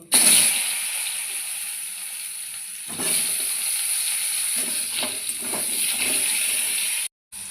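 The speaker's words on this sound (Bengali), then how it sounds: "দিয়ে এবার আলুগুলো ভেজে নেব।" Potatoes fry in hot oil seasoned with black cumin and bay leaf for a fish curry with drumsticks, a steady close sizzle with stirring bursts near 3 and 4.5 seconds, cut by a brief gap near the end.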